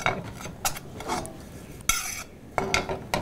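A utensil stirs and scrapes ingredients with salt in a pan for a low-calorie Indian snack, giving a few close, sharp scrapes and clinks between quieter stretches.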